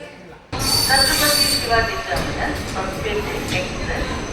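A train rolls into platform 2 at Koppal railway station loudly after a brief quiet start, with high metallic wheel squeal and rumbling carriages; voices murmur faintly underneath.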